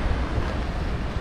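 Steady roar of sea waves and surf at a beach in Veracruz, Panama, with wind buffeting, continuous and fairly loud, no voices.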